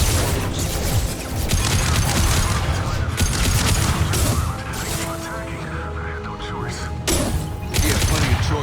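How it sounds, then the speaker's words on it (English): Concussive shot fired in Mass Effect 2 during Jacob's loyalty mission, heard as heavy blasts and booms thumping through dense, continuous combat noise, with a few sharper bursts standing out. "Firing concussive shot."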